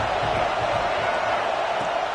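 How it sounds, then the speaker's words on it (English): Home crowd at a football game against Florida roaring steadily and loudly, a dense sustained wash of cheering from a large stadium audience. "how nice is it to have the home crowd going absolutely bananas"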